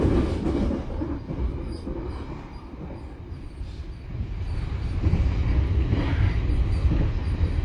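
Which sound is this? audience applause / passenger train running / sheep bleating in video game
passenger train running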